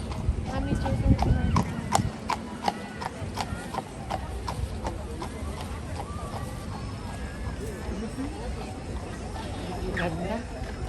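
Hooves of a horse-drawn kalesa carriage clip-clop in a steady rhythm over a busy street, close and fairly loud, with people talking throughout.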